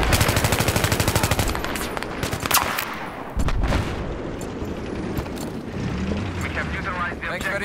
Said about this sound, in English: Bullet cracks in the air, man.